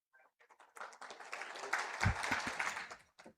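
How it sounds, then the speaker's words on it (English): A lone audience member at a learning and development festival claps a short burst of hand claps in a quiet room, fairly faint and uneven. "Oh, someone clapped."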